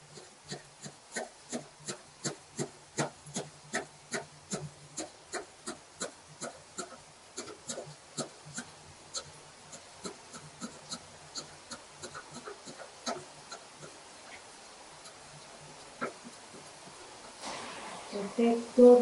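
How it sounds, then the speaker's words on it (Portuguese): A knife chops cheiro verde, fresh green herbs, on a board: a rapid, even run of close dry taps that slows and thins out before some clattering at the end. "Vamos cortar o cheiro verde."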